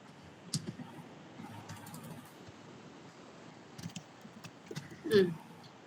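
Light, sparse typing on a computer keyboard, a few scattered soft key clicks at close range in a quiet room, with no talk.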